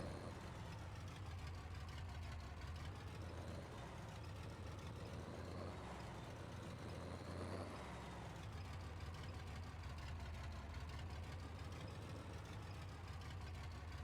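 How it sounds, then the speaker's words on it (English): A feed auger runs steadily in a farming video game while oats are converted into mineral feed, giving a continuous low mechanical engine-like drone with no pauses or talk. "you then use the mouse controls to control the auger"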